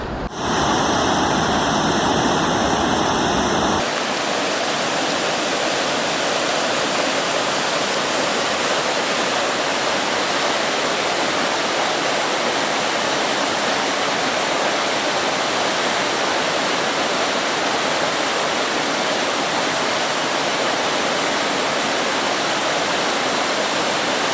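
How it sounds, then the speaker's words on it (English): Roaring waterfall and rapids in Yosemite National Park, seen up close off the trail: a loud, steady broadband rush of falling water continuing unbroken throughout. "I came a little bit off trail to get a closer look at this part of the waterfall"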